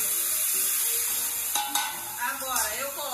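Pork ribs sear in a hot pan with a steady, close sizzle throughout, broken by a few sharp clinks and spatters as the meat is moved around; no talking.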